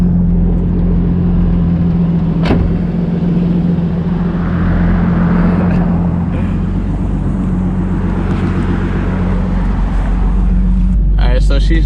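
Single-turbo Nissan 350Z engine hums steadily from inside the car as it is driven, with a sharp click partway through and people talking over the drone.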